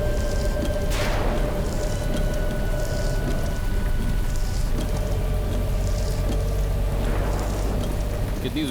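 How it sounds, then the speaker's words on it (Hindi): Heavy rain falls steadily as a loud, constant hiss, with a few brief swelling whooshes passing through and no voices. "कितनी जोर की बारिश हो रही है।"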